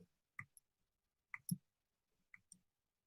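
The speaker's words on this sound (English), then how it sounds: "come in with my scissors" Scissors snipping thread on a fly-tying hook: faint, crisp clicks in small clusters, about four or five sharp cuts spaced irregularly across a quiet background.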